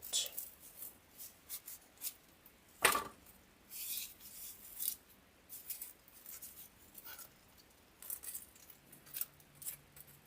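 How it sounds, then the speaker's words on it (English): Scissors cutting out paper wreath pieces for a Christmas wreath, scattered snips and crisp rustles at close range, faint and irregular over a quiet room. "I'm going to cut those out"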